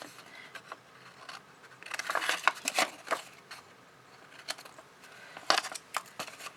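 Scissors snipping out a square of vellum paper for a gift box, soft scattered cuts and rustles close by, a few bursts of quick snips with quiet gaps between.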